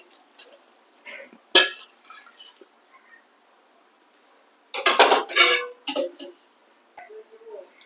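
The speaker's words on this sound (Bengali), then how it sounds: "তরকারিটা আমি এবার ঢেলে নিচ্ছি" Potato and soybean curry poured out of the cooking pot, heard as sparse metallic scrapes and clinks of spoon against pot, with one longer rattling scrape and quiet gaps between.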